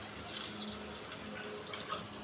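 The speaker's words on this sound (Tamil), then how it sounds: "இப்போ நம்ம இதில் 4/2 கப்பு தண்ணி ஊற்றலாங்க." Water pours steadily into a cooking pot while making kodo-style kuthiraivali millet ghee pongal, a soft continuous gushing and splashing at close range, alone without any voice.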